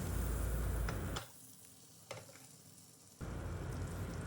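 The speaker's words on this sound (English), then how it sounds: "We'll let the butter melt completely and spread the oil and butter on all the sides of the pan" Butter and vegetable oil heat together in a pan with a steady, close sizzle that drops to a quieter hiss midway, then swells back to full strength.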